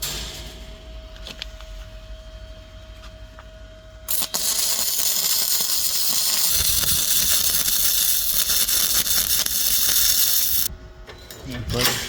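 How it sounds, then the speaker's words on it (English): Welding a latch onto a metal farm gate, a steady loud crackling hiss that runs unbroken for about six seconds with a sharp start and stop, with quieter shop noise before and after. "Alright, so we're just welding the latch on the gate."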